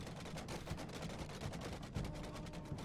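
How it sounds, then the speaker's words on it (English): An archer barrage in Chivalry Total War Remastered, a Roman Empire campaign battle, with a dense, continuous rattle of many arrows striking in rapid overlapping bursts, faint and distant throughout. "here comes the archer barrage"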